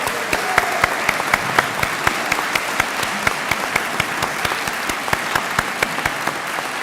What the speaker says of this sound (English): give yourselves a real good round of applause.